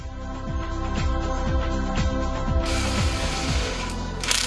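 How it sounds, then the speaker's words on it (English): Ratcheting clicks sound in quick repeated strokes as bolts are tightened on a Pulsar NS200 engine, a close mechanical rasp over a steady background hum. "Tighten the bolts to the specified torque as shown."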